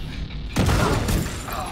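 A grenade blast in the shooter The Division 2 hits with a sudden loud boom about midway, its roar rolling on under a second thump and scattered gunfire-like crackle.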